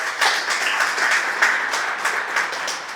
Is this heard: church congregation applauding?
yes